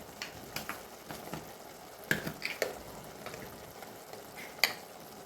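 Spice powders of red chilli, turmeric, garam masala, coriander and cumin with salt fry softly in a pan for chole, with a faint low sizzle broken by a few sharp scraping stirs and spoon taps, close and without talk.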